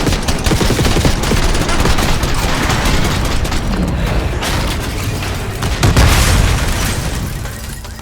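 Rapid sustained gunfire at a limo in Call of Duty Black Ops 6, dense overlapping automatic bursts and booms filling the whole stretch, loud and close, with a heavier impact near the end.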